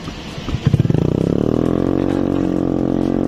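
A Honda Beat Hybrid scooter accelerates under electric-motor boost, its engine note rising from a low idle into a loud, steady, buzzing rev that climbs and holds, close to the listener with no speech.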